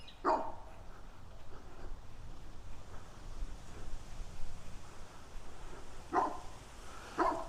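Dogs bark from well back behind a fence, a few distant, faint bursts spaced apart at the start and near the end over a quiet outdoor background.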